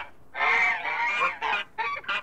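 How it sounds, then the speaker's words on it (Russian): Cartoon geese-swans honk in a series of loud, close calls, one long honk followed by several shorter ones in quick succession, with no other sound around them. "Летят гуси-лебеди."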